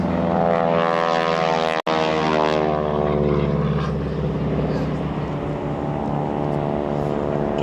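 Rotary-wing helicopters fly past in a small formation at the Biggin Hill airshow, a loud droning engine and rotor roar that sweeps through and slowly recedes, with a commentator talking over it.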